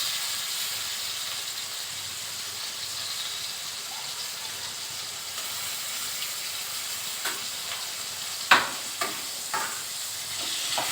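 Tomatoes with onion and green chillies frying in a pan give a steady, fairly quiet hiss and sizzle, with a few sharp clinks of a utensil stirring toward the end and no talk.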